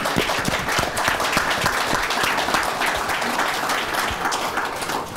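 An audience gives a dense, sustained round of applause at a respectful conversation event on marriage in Sydney, steady and loud throughout with no voices over it.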